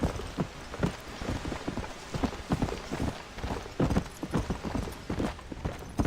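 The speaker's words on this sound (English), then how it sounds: "There's my steed." Horse hooves clip-clopping at a steady gallop in the Western video game Red Dead Redemption, a continuous rhythmic pounding with faint ambient noise and no talk.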